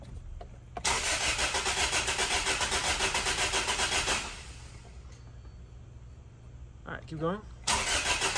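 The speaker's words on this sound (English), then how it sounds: "It's just the engine starting." Toyota 2ZZ-GE engine cranks briefly, then catches and runs in a loud, even pulsing idle for a few seconds before shutting off. A voice speaks quietly between attempts, and the starter cranks again near the end.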